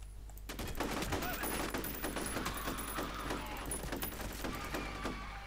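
Rapid bursts of gunfire crackle almost continuously, loud and dense, like a firefight in the video game FEAR.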